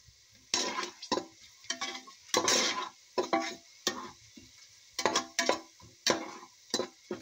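Onion and tomato fry in a pan while being stirred, heard as faint, intermittent scraping and clinking strokes in short bursts separated by quiet gaps.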